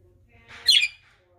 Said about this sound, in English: These birds are trying to chat and chat.